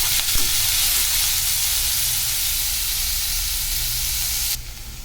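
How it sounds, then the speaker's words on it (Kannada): Onions frying in a pan for masala puri, a dense steady sizzle and hiss running evenly for several seconds before dropping suddenly near the end. "ಇವಾಗ ಈರುಳ್ಳಿ ಸ್ವಲ್ಪ ಚೆನ್ನಾಗಿ ಫ್ರೈ ಮಾಡ್ಕೊಳ್ಳಿ"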